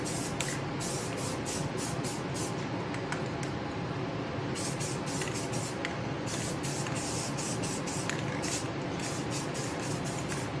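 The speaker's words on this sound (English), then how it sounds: "Let that set up for about 5 minutes and then we'll give it a heavier coat" Aerosol spray paint laying a light satin tack coat on the interior of a 1973 Challenger, a continuous close hiss broken into repeated bursts as the nozzle is pressed and released.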